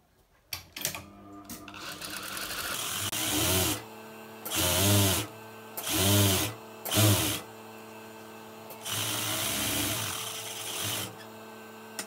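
A sewing machine stitches the side seam of a bra in short bursts, running in four or five separate spurts with pauses between them, close and fairly loud, with no talking.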